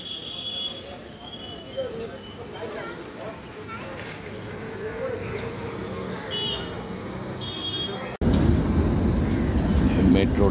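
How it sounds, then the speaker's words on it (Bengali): A packed office-hour metro train runs on an elevated line overhead near Kudghat station in Kolkata, a steady rumble and rail noise that swells loudly near the end, with people talking underneath. "মেট্রোটা যাচ্ছে ওপর দিয়ে।"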